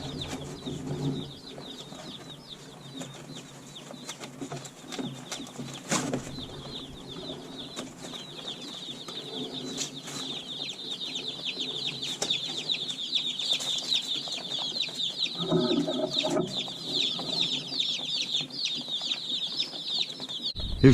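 A box of about 75 baby Freedom Ranger chicks in a shipping box, a dense, continuous chorus of high-pitched peeping, with brief rustling and handling bumps close to the microphone.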